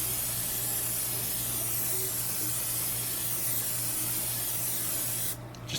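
Aerosol cooking oil can spraying a long, continuous hiss into a pan while instant ramen grilled cheese is made, close and steady for several seconds before cutting off near the end, with no talking.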